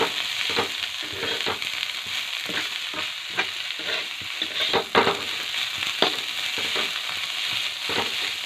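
Radish greens with garlic frying in a pan as they are stirred, a steady sizzle with rhythmic scraping and occasional sharper clacks of the spatula, close and continuous.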